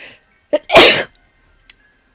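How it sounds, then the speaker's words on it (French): A single loud, close sneeze with a short sharp intake before it, followed by a brief faint click. "j'ai envie d'éternuer"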